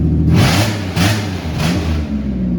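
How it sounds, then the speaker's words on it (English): A Pontiac 3.4 engine that has been running poorly revs hard to the rev limiter, loud and close, its droning tone rising and cutting back in three repeated surges. "it actually hits the rev limiter"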